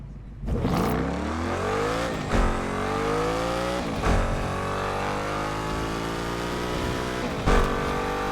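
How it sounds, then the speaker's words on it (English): A stock race car engine revs hard and continuously, with rising and falling pitch sweeps and several sharp throttle blips, loud and close throughout with no talking. "That was a stock car."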